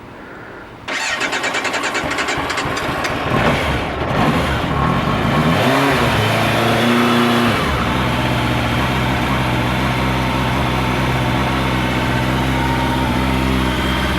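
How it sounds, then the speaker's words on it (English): A 1993 Yamaha FZR600 sportbike with stock exhaust cranks and fires up from cold, then settles into a steady, loud idle that runs on continuously with no talking. "We'll do a cold start."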